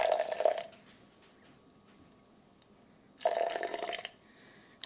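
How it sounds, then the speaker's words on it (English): Filtered room-temperature water poured into a cup in two short bursts of liquid splashing and gurgling, each about a second long, separated by a quiet pause. "I've got a 1/2 cup of filtered room temperature water. And I'm gonna pour 1/2 of that in."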